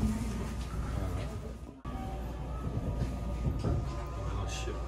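Steady low rumble and rolling clatter inside a moving modernized passenger train with an onboard toilet, continuous throughout with a brief dip, while people talk nearby.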